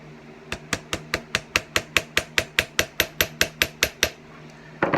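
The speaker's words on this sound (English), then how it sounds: "take my hammer and start wanging on it" A steel hammer strikes a rivet on a helmet mask set against a ring hammer in about eighteen even, ringing metallic blows at a brisk steady pace, close and loud with no talk.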